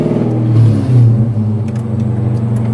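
A C6 Corvette with an LS3 V8 revs hard and close, a deep loud rumble that swells twice and then holds a heavy idle-like growl.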